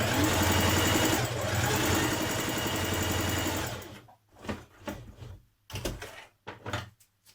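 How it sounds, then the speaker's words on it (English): A sewing machine runs a continuous, loud stitching line on a garment sleeve for about four seconds, then stops, leaving scattered clicks, handling knocks and brief bursts of fabric movement. "you're going to do another line of stitching directly beside that, just to ease in the top of your sleeve"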